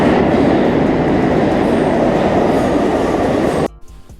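A New York subway train rumbles loud and close with steady wheel roar and rattle, then cuts off sharply near the end into quiet.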